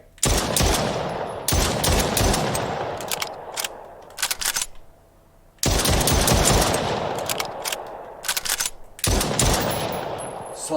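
Semi-automatic hunting rifle fire in the VR shooter Triton VR comes as loud, rapid close bursts of sharp cracks, pausing briefly between strings of shots with clicking handling noise in the gaps.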